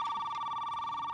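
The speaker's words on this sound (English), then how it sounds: "Oh, that's my phone." An old telephone rings in a home during a dinner visit, a steady electronic trill holding at moderate loudness through the short moment, with no voices over it.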